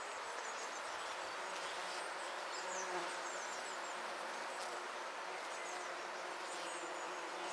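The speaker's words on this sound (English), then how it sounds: "There's so many different bees and hoverflies and honeybees" A dense, continuous hum of many bumblebees, honeybees and hoverflies buzzing around a garden bush nearby, steady and unbroken throughout.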